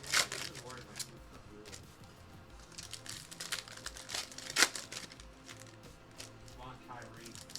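Trading card packs from a WWE set are ripped open in quick succession, giving crinkling foil and tearing wrapper sounds with sharp rips and shuffling over quiet background talk.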